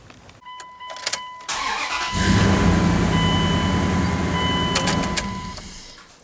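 A car engine cranks and fires during a battery tester's cranking test: a short starter whine, then a steady loud idle rumble held for several seconds, with a faint electronic tone running across much of it.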